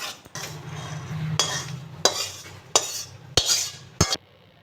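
Semolina and flour are stirred while dry-frying in a pan: a spoon gives repeated scraping strokes and knocks against the metal, close and fairly loud, over a low steady hum, with no voices.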